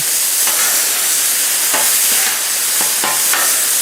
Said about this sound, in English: I'm going to let this go for about a minute, 2 minutes or so, and just let it fry